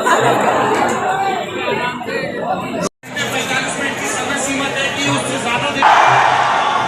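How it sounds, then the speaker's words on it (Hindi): Dense crowd chatter fills a packed stadium comedy show at Major Dhyan Chand stadium, a loud constant babble of many voices with a brief dropout partway through. "भाई बहुत ज्यादा भीड़ है"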